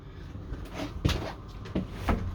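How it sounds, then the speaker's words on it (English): A bathroom door inside a Pilote 746C motorhome is closed, producing a short series of close hollow knocks and clicks as the lightweight panel moves and latches, in a quiet interior. "We also have the possibility of closing this door here"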